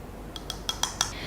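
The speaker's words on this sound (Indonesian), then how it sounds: "ke dalam wadah berbahan kaca, kita masukkan 1 sendok teh VCO." A teaspoon of virgin coconut oil goes into a glass container with a quick run of five small, close clinks of metal on glass. The clinks grow slightly louder toward the end, and no one speaks.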